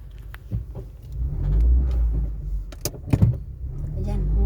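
Car creeping forward through heavy highway traffic, a low engine rumble under steady road noise with a few brief clunks and knocks, while someone talks over it.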